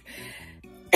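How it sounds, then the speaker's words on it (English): A person coughs after vaping a 1g Avitas cartridge: a short, raspy throat-clearing rumble that breaks into one sharp, loud cough at the end, close to the microphone. "the cough of it kind of hurts my throat"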